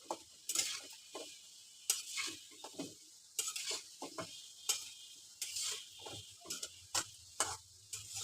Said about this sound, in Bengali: কোরমাগুলো এভাবে লাল লাল করে ভেজে নিতে হবে